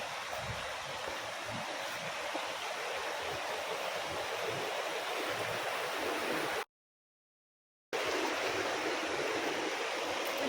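Canding Falls pours in a steady, loud rushing roar of falling water, close and unbroken apart from a brief cut to silence partway through.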